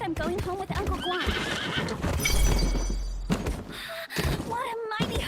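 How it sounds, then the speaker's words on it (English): In a video game, a horse whinnies in a sharp rising neigh while hooves clip-clop, mixed with a few heavy thunks and people talking over it. "What a mighty horse!"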